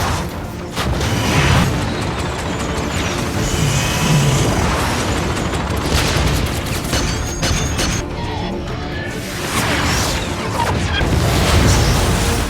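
Film battle of naval gunfire and explosions destroying an alien warship, a dense loud barrage of booms, crashes and rumbling blasts layered with score, continuous for the whole stretch.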